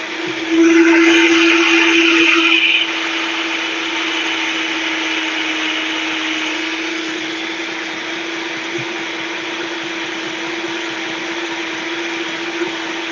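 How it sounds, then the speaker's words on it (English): A kitchen blender runs loud and steady, whirring through nut-based ingredients with a harsher burst at the start before settling into a continuous drone; no talking. "So when we're going to blend, I'm sorry, there's going to be some blending noise."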